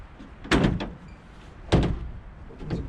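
A pickup tailgate on freshly installed hinges swings open and shut, two loud close thunks about a second apart with some rattle after each, followed by fainter clatter.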